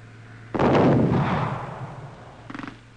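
Artillery fire during a military anti-tank combat exercise: a loud, near boom at the start that rolls and decays over about two seconds, followed by a fainter, shorter burst near the end.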